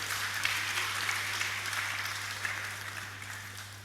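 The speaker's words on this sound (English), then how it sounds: "Please, a round of applause for all of them." Audience applause at a student union inauguration ceremony, a sustained wash of many hands clapping in a large hall, steady and moderately loud, fading slightly toward the end over a low constant hum.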